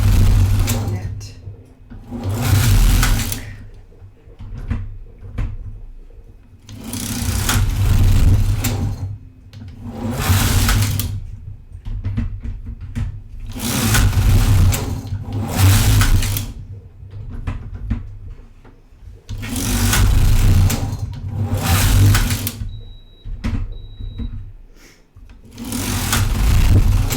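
Knitting machine carriage sliding back and forth across the needle bed while knitting a rib pattern, repeated rushing passes of a few seconds each with short gaps between, close and loud.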